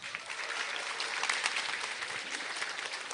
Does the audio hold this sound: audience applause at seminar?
yes